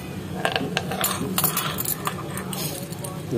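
A set of motorcycle keys jangles and clinks in a series of bright, close metallic rattles, with speech faintly present under the sound.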